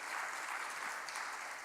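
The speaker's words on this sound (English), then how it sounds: "perhaps I can ask you an applause for the team that prepared this event" Workshop audience applauds the organizing team: a dense, steady wash of many hands clapping, fairly soft and continuous throughout, with no voices over it.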